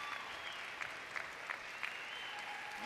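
A crowd applauds the junior showmanship finalists at a national dog show championship, steady moderate clapping with a few sharper claps standing out, heard from some distance without talking.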